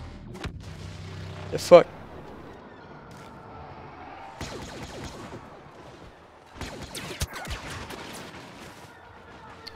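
A turret fires in the Star Wars Battlefront video game, booming in several heavy, echoing bursts spread across the stretch, the loudest early on, while a player briefly swears.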